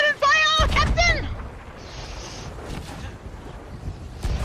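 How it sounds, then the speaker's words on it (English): Cannon fire strikes a ship in the Sea of Thieves video game: heavy rumbling booms and crashing impacts roll on after a brief burst of chirpy game sounds and voices at the start. "We're taking on cannon fire"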